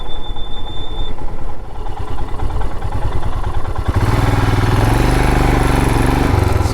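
A motorcycle engine runs near and loud on a road trip from Udaipur, first a choppy, pulsing beat that then becomes a steady, thicker drone for the last few seconds.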